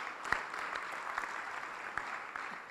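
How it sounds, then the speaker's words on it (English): Audience applause at an awards dinner for young entrepreneurs, a steady wash of clapping from a crowd with a few sharper claps standing out, continuous and moderately loud throughout with no talk. "We'll cheer anyway again."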